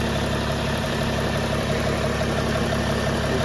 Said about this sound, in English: This thing is absolutely purring like a kitten.